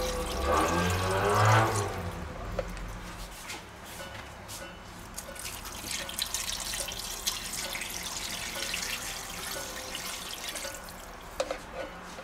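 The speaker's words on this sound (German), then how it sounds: "Und dann schön mit Wasser angießen." Water poured over cucumbers in a container, a brief splashing gush at first, then softer trickling, dripping and wet squishing with occasional small knocks.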